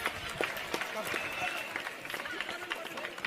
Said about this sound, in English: Give him a big round of applause, students.